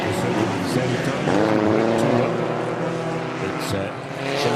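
Stock cars race around a track, engines droning and rising in pitch as they pass. A voice talks over the engine noise.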